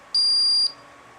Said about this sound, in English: You do hear it beep